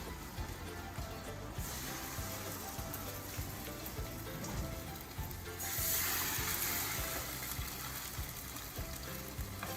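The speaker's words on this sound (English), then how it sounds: "you're going to take the hash brown and you're going to put it in the oil" A hash brown frying in hot oil gives a steady, loud sizzle with bubbling crackle that swells for a moment partway through, close up with no talk.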